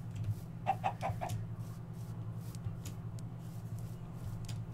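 A few chickens cluck in a short burst near the start, then scattered softer clucks follow over a steady low hum, fairly quiet and alone without talk.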